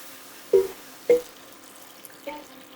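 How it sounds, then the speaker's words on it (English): Water is poured into a pot of chunky vegetable stew with carrot chunks and canned tomatoes, coming as two sharp splashing bursts and a softer third splash, close and alone. "and then all we do now is add our water"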